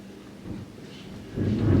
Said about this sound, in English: A nice, cool rain has come up.